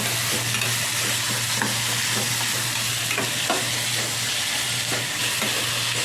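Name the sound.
chopped garlic being stirred and fried in a pan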